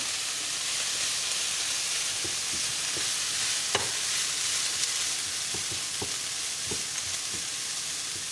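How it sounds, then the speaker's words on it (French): Shrimp fry in a pan for Cantonese fried rice, giving a loud, steady sizzle and hiss broken by scattered clicks and taps of stirring, with no talking. "On va rajouter les crevettes."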